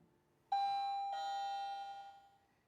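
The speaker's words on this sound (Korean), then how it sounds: "벨 소리가 딩동 딩동 나죠." A two-tone doorbell chime on a baby drop box rings once, a bright ding followed by a dong, ringing out and fading, clear and close with no talking.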